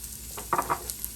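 Onions and peppers stirred in a hot pan, a few quick scraping, sizzling strokes in a short burst over a steady low frying hiss, close and fairly soft.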